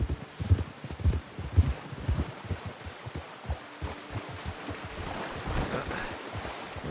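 Horse hooves clip-clopping at a steady trot in the Red Dead Redemption 2 video game, a close, uneven rhythm of thuds over low ambient rumble.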